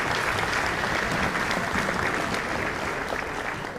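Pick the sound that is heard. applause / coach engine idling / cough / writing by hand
applause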